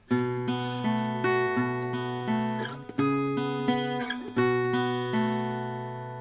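A guitarist fingerpicks a syncopated blues pattern slowly on a blues guitar. Crisp, ringing plucked notes and chords sound alone in a steady, deliberate rhythm, each one decaying before the next.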